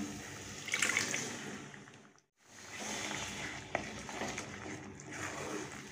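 Boiled chickpeas and their cooking water are poured into a masala, a soft, close splashing pour with a brief pause before the liquid keeps running.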